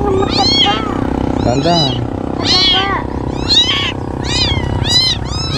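Several cats meow repeatedly at close range, high rising and falling cries arriving in quick succession, while people talk in Filipino throughout.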